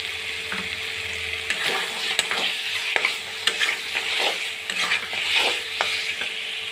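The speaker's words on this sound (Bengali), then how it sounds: "হলুদ গুঁড়ো, সমস্ত কিছু দিয়ে ভালো করে কষিয়ে হবে যতক্ষণ না তেল ছাড়ে" Ground spices with turmeric and chilli powder being stir-fried in oil for an egg and potato curry, a steady broadband sizzle broken by repeated scraping stirs of a spoon against the pan, close and moderately loud, no talking.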